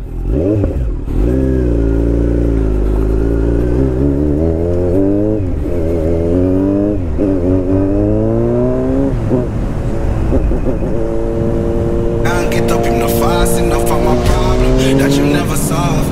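A motorcycle engine revs up close and loud, pitch climbing in repeated sweeps as it accelerates, with a rhythmic clatter joining near the end.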